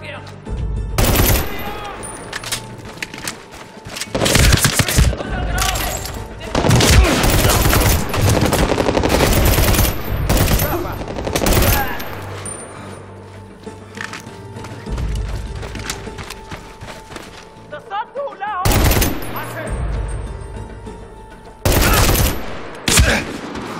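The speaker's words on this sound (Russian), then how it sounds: "По нам стреляют." Gunfire in the video game Medal of Honor Warfighter, with loud machine-gun bursts and single shots in irregular volleys over mechanical clatter, some close and some farther off, and occasional voices.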